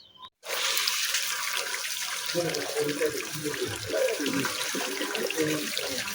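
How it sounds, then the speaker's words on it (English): Water running and splashing as rainwater drains back into a house's front yard beside a perimeter wall under construction, a steady close rush with irregular gurgling surges throughout after a brief quiet start. "much of the water is again draining back into the front yard"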